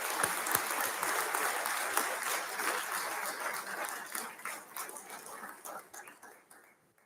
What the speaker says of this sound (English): How about a round of applause for Chief Gabe and Musa and the men and women of Milton Fire Department?